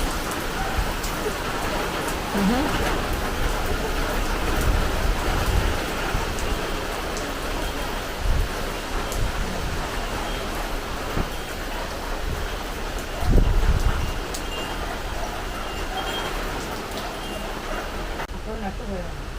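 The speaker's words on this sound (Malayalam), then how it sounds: "പിന്നെയും മഴ വരുന്നുണ്ടല്ലേ" Steady rain patters throughout, with gusty wind noise and people talking over it.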